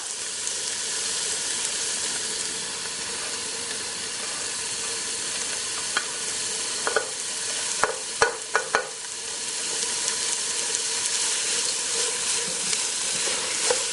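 Carrots and coleslaw sautéing in a pan for fried rice, a steady close sizzle with a few sharp crackles and stirring clicks partway through, no voices.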